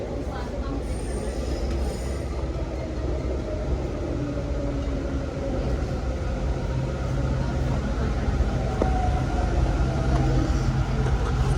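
A Delhi Metro train runs between stations on the Vaishali to Dwarka line, giving a steady low rumble and rail noise with faint wheel squeal, continuous and fairly close throughout.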